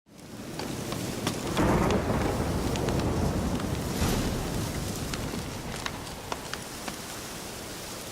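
Steady heavy rain pours in The Witcher 3: Hearts of Stone, with a low rolling rumble of thunder building early on, occasional sharp drip and tap sounds scattered through the downpour.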